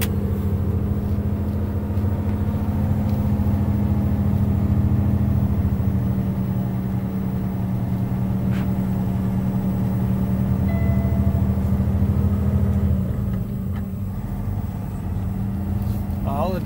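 A Kenworth W990 logging truck runs with its heavy diesel engine droning steadily throughout. The constant low hum sits close, and a voice talks over it.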